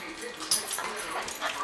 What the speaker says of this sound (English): but for some reason this dog freaks out